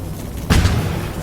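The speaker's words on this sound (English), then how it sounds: "Germans are ranging in their mortars again." A single heavy German mortar shell bursts in the Combat Mission WWII strategy game, a sudden booming blast with a short rumbling decay, loud and fairly near.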